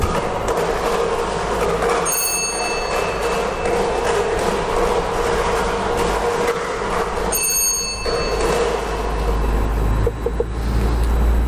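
Lottery draw device for the Lao lottery spun by staff, giving a steady loud mechanical rumble with rattling and clattering, bell-like metallic rings around two and seven seconds, continuous and with no speech.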